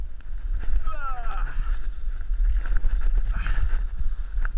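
A young child paddles a small dinghy on the Ryå river in October, with splashy paddle strokes and water sloshing against the hull under steady wind noise, while an adult talks close by.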